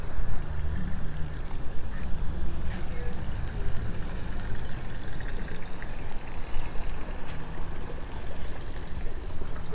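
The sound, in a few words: water fountain or small waterfall at flower festival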